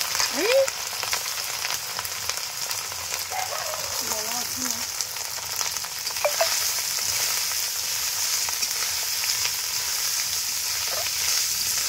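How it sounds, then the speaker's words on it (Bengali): Cooked rice goes into a pan for fried rice in a rustic village kitchen, producing a loud, steady close sizzle and crackle of frying that runs without a break, with a voice cutting in briefly now and then. "তো গাইজ এবারে কিন্তু ভাত দেওয়া হবে, যে দেখো ভাত দেওয়া হচ্ছে, একবারে ঢেলে দে না"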